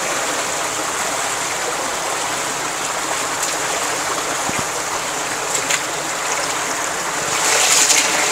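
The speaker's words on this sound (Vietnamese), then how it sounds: "Đi qua cái dòng suối này nó chạy rất là xiết cô chú anh chị." A fast-flowing mountain stream rushes loudly and steadily as people wade across it, a continuous broadband roar of water up close with no talk, swelling slightly near the end.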